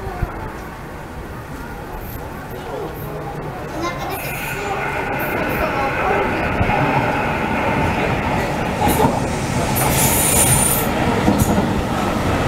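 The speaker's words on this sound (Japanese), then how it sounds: "まもなく1番線に中山行きの電車が到着します。" A Yokohama Municipal Subway train rolls into the platform with a growing rumble, squealing wheels and rattling cars; a Japanese arrival announcement speaks faintly underneath.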